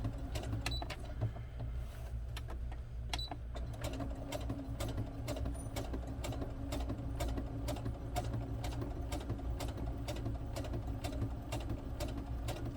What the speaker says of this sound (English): my sewing machine is set on a slower speed, so that went kind of slow